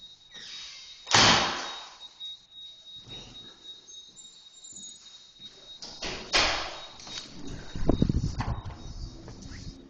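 A building's front door opening and closing during a 2013 blizzard: a sharp thud of the door, then several clunks and scuffs of the latch and footsteps, ending with a louder bang.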